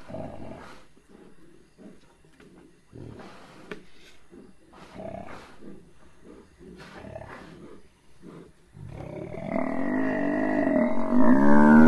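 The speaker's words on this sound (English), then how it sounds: "Then a second male lion arrived." A male lion roars and growls during a buffalo kill, deep rough grunts broken into short bursts, followed by a louder, sustained, strained bellowing that rises toward the end.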